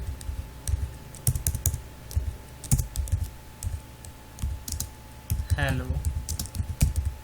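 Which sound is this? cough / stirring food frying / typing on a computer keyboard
typing on a computer keyboard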